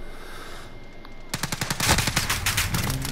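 Automatic rifle fire in Call of Duty: Modern Warfare, a sustained rapid burst of loud, close shots starting abruptly after a quiet lead-in and continuing steadily to the end.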